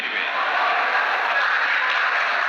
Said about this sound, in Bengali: ঠিক আছে করতালি দেয় সবাই